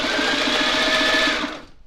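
Rapid even chatter of a Sailrite Ultrafeed LS-1 sewing machine stitching thin 1.9 ounce sil nylon, a close continuous run of needle strokes that slows and stops near the end.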